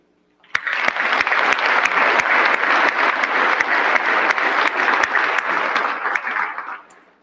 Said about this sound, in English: Please join me in applauding their dedication and enthusiastic service to their students